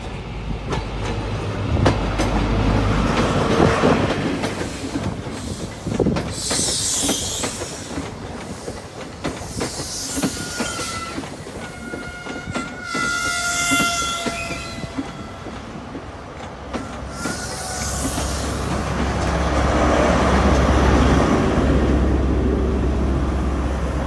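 A GWR Flying Banana diesel railcar runs along the track on a heritage railtour, its steady rumble and clatter sustained throughout with a few higher wheel squeals, no voices over it.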